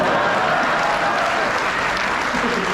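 Audience at a Hindi poetry event (kavi sammelan) at a college festival applauds, a steady wash of crowd clapping that holds evenly for the whole stretch with no voices on top.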